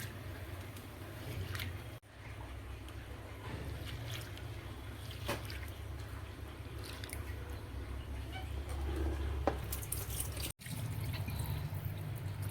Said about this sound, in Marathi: हे बघा आता याला हे पाणी फेकायचं आणि एक पाणी धुवायचं